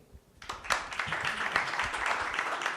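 Audience applause at a venture capital panel event, starting abruptly after a brief quiet moment and continuing as a steady, fairly dense round of clapping.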